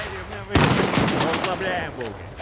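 Gunfire in the Stalker 2 shooter starts abruptly as a rapid run of sharp, loud shots, near and punchy, then tails off into echoing combat noise.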